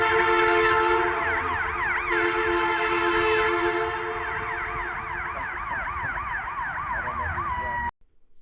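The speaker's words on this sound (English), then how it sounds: "And an ambulance passed right through. That was not a sound effect, by the way. That was actually real." A real ambulance siren wails past on a city street in St. Louis, its loud rising-and-falling tone sweeping steadily for several seconds before cutting off abruptly near the end.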